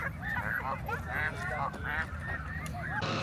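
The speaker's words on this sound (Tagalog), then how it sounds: "Parada ng mga gansa." Several geese honk repeatedly in overlapping calls, fairly close, near the Peace Bridge in Calgary, amid a busy, noisy outdoor background.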